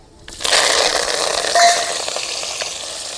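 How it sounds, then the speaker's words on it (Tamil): Mustard seeds crackle and pop in hot oil for horse gram upma, a dense steady sizzle that starts abruptly and holds close and bright, with scattered sharper pops on top. "கடுகு நல்லா பொரிஞ்சுக்கிடுச்சு."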